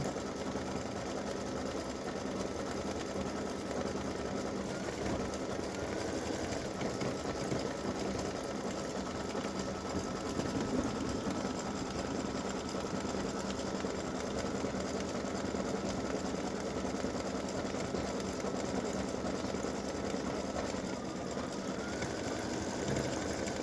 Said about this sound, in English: My machine is telling me it's going to take 29 minutes to stitch both of them.